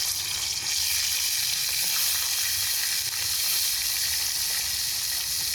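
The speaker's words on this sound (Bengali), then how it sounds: "এখন একে একে মাছগুলো ভাজি। আগে পেটিগুলো ভাজি।" Katla fish pieces frying in hot oil, a loud, steady close sizzle with continuous crackling hiss that holds throughout without a break.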